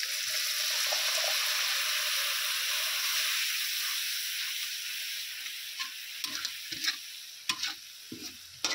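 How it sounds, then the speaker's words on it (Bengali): Water goes into a spice paste of red chilli powder frying in a pan for a chicken skin and chicken legs dish. A loud, close sizzling hiss slowly fades, broken later by clinks and scrapes of stirring. "দিয়ে দিচ্ছি জল।"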